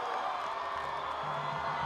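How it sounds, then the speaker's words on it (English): Roy students in the stands at a high school football game against Logan keep up a steady, noisy roar of cheers and whoops for their defense on third down, with a low hum underneath. "ruckus from the Roy students trying to cheer on their D"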